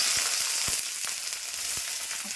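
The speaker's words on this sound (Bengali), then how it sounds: "তেল গরম হয়ে গেছে, আমি পেঁয়াজ ছাড়ছি।" Onions dropped into hot oil in a wok sizzle with a steady, close, loud frying hiss, dotted with a few sharp pops and crackles, no voices.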